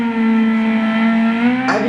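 Honda Civic race car engine in Gran Turismo 6 at Silverstone National, a loud steady high-pitched drone held throughout with a slight rise in pitch near the end.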